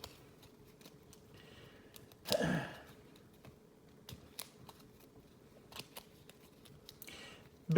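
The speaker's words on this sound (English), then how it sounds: "Shuffle, shuffle, shuffle." A deck of game cards being shuffled at a tabletop board game session: one brief riffling burst, then a quieter shuffle near the end, among faint scattered clicks and taps, with no voices.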